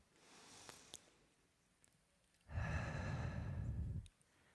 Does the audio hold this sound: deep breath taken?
yes